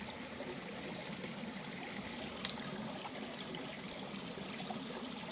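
A shallow creek flows steadily with a soft continuous wash and trickle, close and fairly quiet, with one brief knock partway through.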